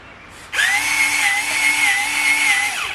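A cheap 12V cordless Workforce grease gun starts abruptly and runs with a steady high motor whine while pumping grease, loud and close, lasting a few seconds before it begins to wind down.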